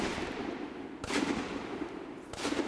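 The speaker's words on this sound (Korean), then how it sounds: "어두운 밤 날카로운 총성이 울려 퍼집니다." Gunfire from hunters catching wild boar around hillsides and rice fields after midnight: two sharp, distant reports, about a second apart, ring out over a steady background hiss.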